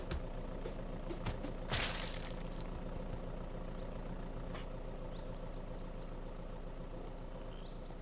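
A car engine idles in the VEIN video game as a steady low rumble throughout, with a couple of brief sharp knocks early on and no talk.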